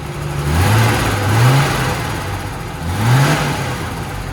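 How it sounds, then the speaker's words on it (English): The engine of a 1972 Triumph TR6 fitted with Stromberg carburetors runs close by, holding a steady loud drone with two smooth revs that rise and fall over the idle. "a very happy, nice sounding little engine"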